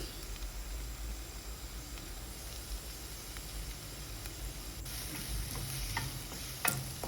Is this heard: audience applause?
no